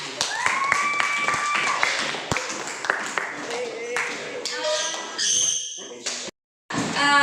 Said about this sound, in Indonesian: berikan tepuk tangan untuk kita semua ya